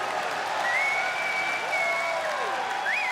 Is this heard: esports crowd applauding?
yes